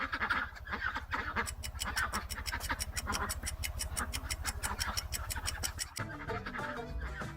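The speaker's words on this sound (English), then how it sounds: "It's a duck." A farm duck quacks in a fast, steady run of sharp, evenly spaced calls that carry on for several seconds before the pattern shifts near the end.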